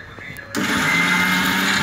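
Mixer grinder jar blending watermelon juice with cumin powder, switching on abruptly after a quiet moment and then whirring loud and steady, with a voice speaking under the start.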